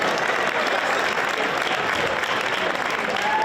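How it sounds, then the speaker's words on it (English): Loud, dense applause from the crowd at the HBB Game Changer Awards for Mayor Baraka, a steady wall of clapping that holds evenly throughout. "Let's get this man a round of applause."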